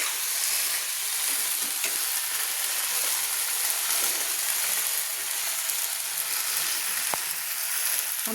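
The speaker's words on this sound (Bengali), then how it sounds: "তো আমি পটল আলু কষিয়ে নিচ্ছি।" Pointed gourd and potato sautéing in a spice paste with oil, giving off a steady, even hiss of sizzling that holds at a constant level with a faint stirring tap or two.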